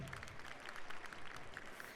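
Applause from a comedy show audience, a faint, brief burst of scattered clapping heard at a distance.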